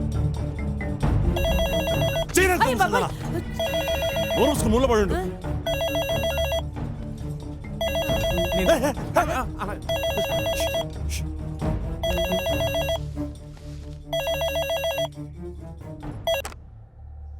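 A telephone bell rings repeatedly in regular bursts over a steady low hum, with a voice speaking briefly in between rings.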